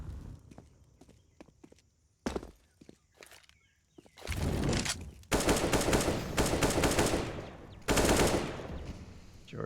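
Gunfire in Counter-Strike on the map Ancient as players pre-fire angles: scattered sharp single shots and footsteps early on, then long loud sustained bursts of automatic fire in the second half, without speech.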